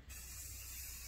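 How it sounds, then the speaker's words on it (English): Bed treatment spray is misted onto a blanket from about a foot away, one steady close hiss lasting about a second. "I just kind of spray it a foot away."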